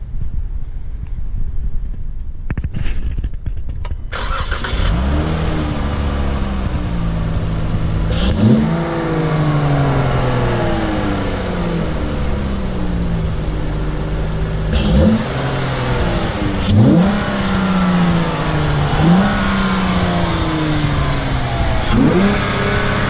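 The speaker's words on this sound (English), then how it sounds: "let's get a start up, man. Hop in, give it a rev." A 2012 Dodge Challenger SXT with a Borla Type S exhaust starts up and revs repeatedly, loud and close, with a deep burble between several sharp rising blips of the throttle.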